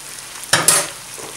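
A short scraping stir of spices, barberries and ground red pepper in a frying pan for chicken plov, a brief burst of sizzling and clatter after a quiet start, then fading.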